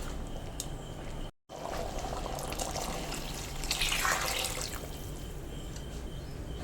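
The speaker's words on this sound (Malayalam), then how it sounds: "ഇനി നമുക്ക് ആ മിക്സിയുടെ ജാറ് കഴുകി ഇച്ചിരി വെള്ളം ഒഴിച്ചു കൊടുക്കാം." Water splashes into a mixer grinder jar as it is rinsed in a kitchen, a steady close pour that swells briefly near the end over a constant background hiss.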